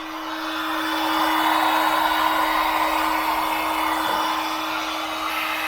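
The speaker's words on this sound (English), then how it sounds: "This here is just your run-of-the-mill DeWalt paint stripper, which is just blowing out a nice amount of hot air." A DeWalt heat gun paint stripper blows a steady, continuous whoosh of hot air with a fixed whine, used to defrost an iced-up freezer, close by with no talking.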